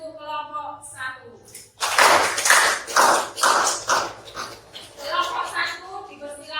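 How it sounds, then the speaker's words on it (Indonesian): Classroom applause for a student group during a lesson, a burst of many hands clapping in loud rhythmic waves after a teacher's voice, fading under further talk. "Tepuk tangan untuk kelompok 1."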